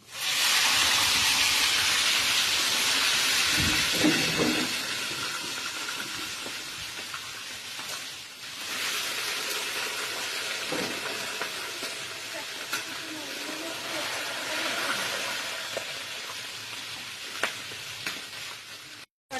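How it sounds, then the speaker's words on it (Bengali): Fish sizzles and hisses steadily in hot oil, cooked in a large batch for a meal of fifty people, the loud frying spitting with sharp pops and easing briefly before building again. "আমি এখন তেলের ভিতর মাছটা দিয়ে দিচ্ছি"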